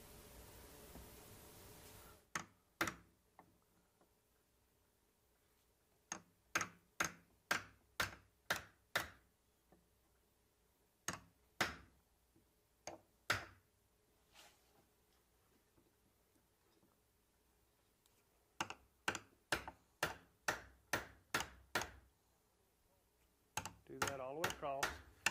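A chisel is tapped into a wooden door to recess the plate for a deadbolt lock, giving sharp, close knocks in quick bursts of several strikes separated by quiet pauses.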